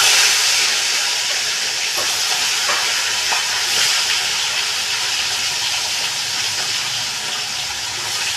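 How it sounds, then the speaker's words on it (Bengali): Pieces of rohu fish frying in a pan with oil, giving a steady, bright sizzling hiss that holds evenly throughout, with a few crackling spikes and no talking. "বাকি মাছগুলো এইভাবেই ভেজে নেব।"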